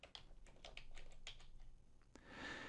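Fingers type quickly on a computer keyboard, a close run of light, irregular key clicks over a faint background hum, ending in a louder keystroke and a soft rustle.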